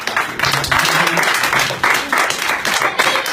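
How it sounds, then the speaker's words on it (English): A magic show audience applauds in a fairly close, moderately sized round of clapping with uneven swells, lasting a few seconds. "Give him a round of applause."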